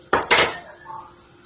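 A lid goes onto a cooking pot with a sharp double metallic clatter, close and loud, then rings out briefly and fades into quiet.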